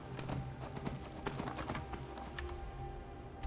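Horse hooves clip-clopping in the video game Skyrim, a steady run of close, loud hoofbeats with a faint whinny and a little talk in the background.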